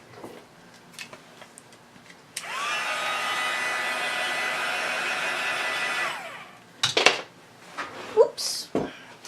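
A heat tool drying ink mists on a Christmas craft tag gives off a steady whirring blow for a few seconds, then switches off, with light clatter and rustling around it.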